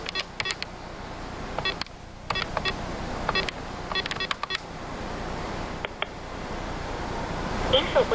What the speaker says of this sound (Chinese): 吴先生就急忙拨打租车公司专员的手机